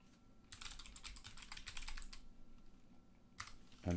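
Quick bursts of clicky keystrokes on a computer keyboard, heard close and faint, come in two runs with a short pause between them and nobody talking.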